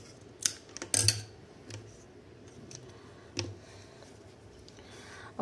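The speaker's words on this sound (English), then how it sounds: "Before that, we will cut this extra yarn." Scissors snipping excess yarn during a flower craft, a few sharp close clicks and cuts near the start and one more later, otherwise quiet.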